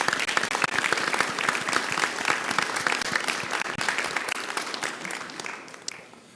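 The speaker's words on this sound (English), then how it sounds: "So let's give her a round of applause." A city council meeting audience applauds steadily, dense clapping filling the room at full strength before tapering slightly toward the end.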